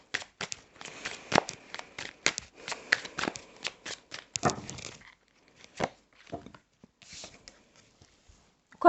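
Rapid, crisp riffling and snapping of playing cards, dense flurries at first, then scattered single flicks and slides, close and quiet with no voices.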